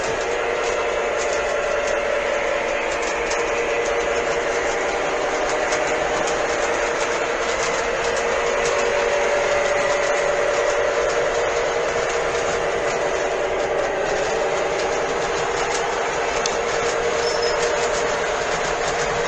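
A model train pulling heavy cars, some die-cast, rolls steadily along the track with a continuous mechanical whir and faint rhythmic clicking, close by and unbroken, with no voices.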